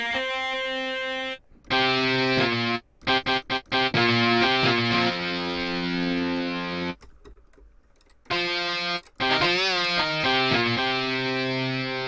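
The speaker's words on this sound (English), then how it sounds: "This will be the guitar with a little bit of distortion." Casio keyboard's synthesized guitar voice with light distortion, played as bright sustained notes and short choppy runs separated by brief silences, loud and alone without talk.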